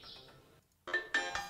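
A mobile phone ringtone chimes in bright, tonal bursts after a short pause, the loud repeated notes rising above faint background sound.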